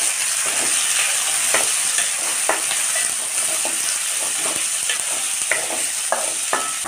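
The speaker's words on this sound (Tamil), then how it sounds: "இந்த டைமில் ரெண்டு தக்காளி கட் பண்ணி சேர்த்திடலாம்." Cut tomatoes fry in a pan for a kovakkai leaf chutney, a steady close sizzle with repeated light stirring scrapes and taps, no talk.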